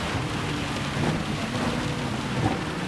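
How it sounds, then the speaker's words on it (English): Heavy rain pours down steadily during a World Touring Car 800 race in Gran Turismo 7 on PS5, a dense constant hiss with low rumbling underneath and no voices. "this rain is just absolutely coming down"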